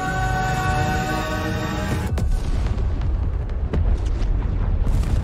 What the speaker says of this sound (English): Volcano's popping.